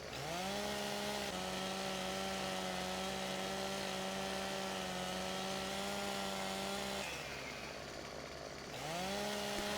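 A chainsaw in the video game Farming Simulator 2017 cuts a tree, its engine droning loud and steady, dipping briefly in pitch before revving back up.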